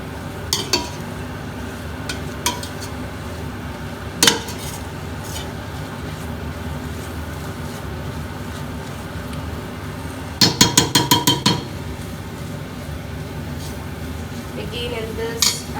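Metal spoon scraping and clanking against a cooking pot while spices are mixed for biryani, with a few scattered knocks and a quick run of rapid clinks, over a steady low background hum.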